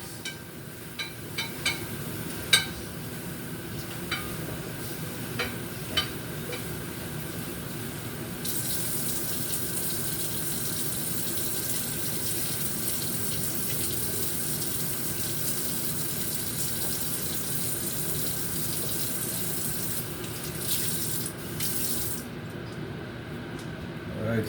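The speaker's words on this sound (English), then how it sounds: "I'm just gonna give this a quick little rinse" Steady running water pours from a kitchen tap to rinse salad ingredients for a Jamaican Sunday dinner, a continuous close splashing wash that grows brighter and louder partway through, with occasional clinks of dishes.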